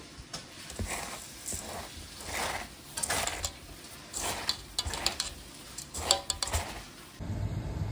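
Pulao rice being mixed by hand with ghee and ground spices in a metal bowl, giving close, irregular scraping and clinking with soft grainy rustles in repeated bursts, alone without talk.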